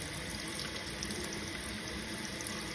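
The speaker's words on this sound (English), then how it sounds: "So I'm going to go ahead and run the water." Tap water running steadily over a Pilot Custom 823 fountain pen nib and feed held under the stream, a constant soft hiss and patter of flowing water with no talking.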